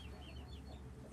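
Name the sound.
bantam cochin chickens clucking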